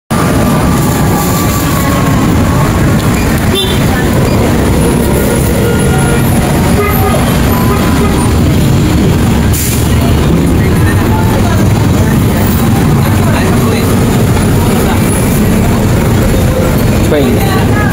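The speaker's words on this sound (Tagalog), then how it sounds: "Train." A train rumbles past at a busy roadside vendor spot, a loud continuous roar with a brief horn-like toot, while people talk in the background throughout.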